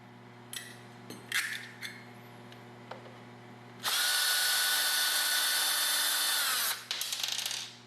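Cordless power drill backing four screws out of the front differential area of a Traxxas X-Maxx RC truck, a few short whirring bursts then one long sustained high-pitched run, close and loud, with no talk.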